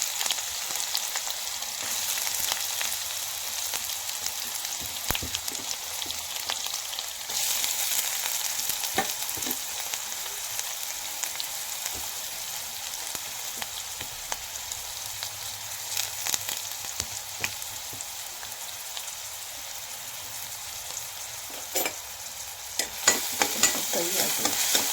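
Curry leaves and chopped onion fry in a pan for egg bhurji, a loud continuous hissing sizzle heard up close, with scattered scraping stirs that pick up toward the end and no talking.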